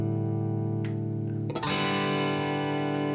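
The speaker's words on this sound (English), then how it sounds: "So this is the Hall of Fame, a very famous delay, as we can hear." Sustained electric guitar tones ring out and blend into echoing repeats from a Hall of Fame delay pedal, with a fresh chord entering halfway through; no talking.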